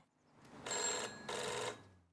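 A phone booth telephone rings twice in Mafia Definitive Edition, each ring a bright electric bell burst of about half a second, fairly close over a quiet game ambience.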